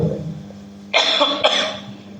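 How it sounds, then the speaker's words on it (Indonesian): A man who is somewhat unwell gives two loud, close coughs in quick succession during a lecture on Hajj and Umrah rites. No one speaks. "Saya ini agak sakit ya, agak batuk-batuk."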